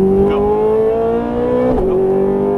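A Ferrari 430 Scuderia engine hums loud and close on light throttle after an upshift, a steady droning note that rises slowly and then dips briefly near the end.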